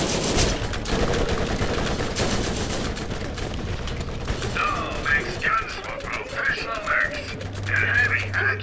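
Rapid-fire bursts from a Vladoff machine pistol in Borderlands chatter loudly with mechanical clatter, followed by trailing weapon and effect sounds while a voice talks over the action.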